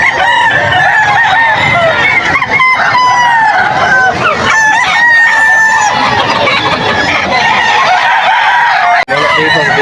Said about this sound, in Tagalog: Daming manok ko dito sa Bukawi.